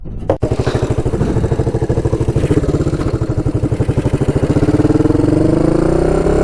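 A Kawasaki KLT 250 four-stroke three-wheeler runs loud and close with a steady, rapid engine throb, the pitch rising slightly as it speeds up during a ride.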